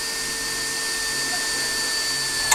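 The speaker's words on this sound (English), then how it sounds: "Okay, so I'm going to drill one up here." Power drill boring a hole overhead, its motor giving a steady, close, continuous whine with a constant high tonal hum throughout and no pauses.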